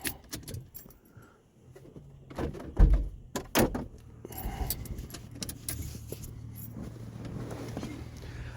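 Keys jangle briefly near a 1974 Ford LTD, followed by a sharp thunk of the trunk latch popping open, then a quiet, low hum of surroundings.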